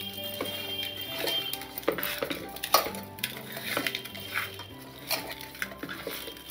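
A spoon stirs ginger-garlic paste and ingredients for mutton biryani in a metal pot, giving repeated close scraping and clanking knocks against the pot in an irregular rhythm, with no talking.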